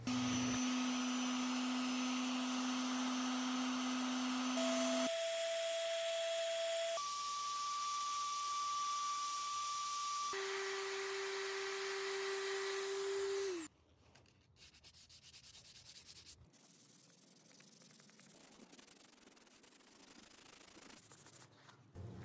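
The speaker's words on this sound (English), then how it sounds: "what I'm doing is using the palm sander" A palm sander with 320-grit paper works an epoxy knife handle, giving a loud, steady whirring rasp with a shifting whine for about thirteen seconds, then cutting out to a much quieter stretch of low room noise.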